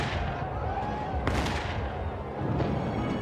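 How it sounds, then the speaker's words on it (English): British cannon at Chad's Ford pound an American line, one sharp boom near mid-clip with a lighter report later, set over a dense rumble of distant battle noise and no voices. "British cannon at Chad's Ford began pounding the American line"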